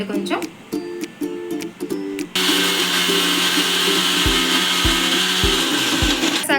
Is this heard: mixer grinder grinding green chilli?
yes